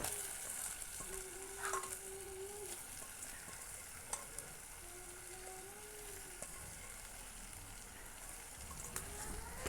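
Pieces of goat tripe frying with tomatoes in a pan, a steady soft sizzle with faint crackles and occasional stirring scrapes, fairly quiet and uninterrupted by voices.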